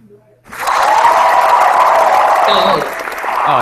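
Applause breaks out after a quiet lead-in and holds steady for about three seconds, a dense wash of clapping from an audience at a theoretical computer science talk, then dips slightly near the end.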